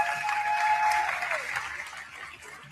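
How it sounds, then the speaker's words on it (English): An audience at an XPRIZE event applauds with a steady wash of clapping that gradually fades, while a faint tone rings in the background. "you can go ahead and applaud it."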